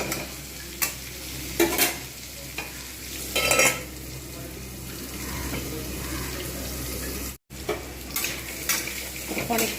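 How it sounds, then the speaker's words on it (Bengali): Pumpkin and pointed gourd fry in soybean oil with a steady sizzle, broken by several loud scraping stirs of a spatula against the pan. "এমনি জাস্ট সয়াবিন তেলেই কিন্তু এগুলো সব ভাজতে থাকবো"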